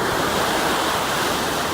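Ocean waves wash onto a beach at Carpinteria on a summer day, a loud, steady roar of surf with wind rushing across the microphone throughout.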